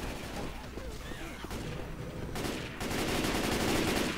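Rapid gunfire in Left 4 Dead 2 during a zombie finale, a dense continuous rattle that swells louder in the last second, with voices calling out over it.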